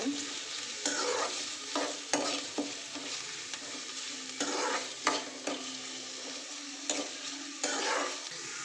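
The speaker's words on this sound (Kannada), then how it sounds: "ಈಗ ಈರುಳ್ಳಿ ಚೆನ್ನಾಗಿ ಫ್ರೈ ಆಗಿದೆ" Chopped onions frying in a pan for a sige soppu greens palya, a steady close sizzle broken by repeated bursts of stirring scrapes, with no talk.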